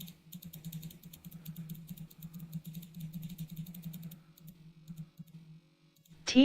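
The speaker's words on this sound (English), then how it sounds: "It's just annoying because I know you can hear that clicking as well." Rapid, evenly spaced clicks from repeated button pressing on a laptop while playing The Stanley Parable Ultra Deluxe, faint and steady for about four seconds, then thinning out before a brief louder knock.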